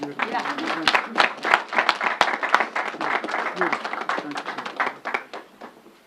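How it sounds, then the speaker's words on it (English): An audience at a press briefing breaks into a round of applause, dense clapping that swells and then tapers off over several seconds. "Let's give him another round of applause"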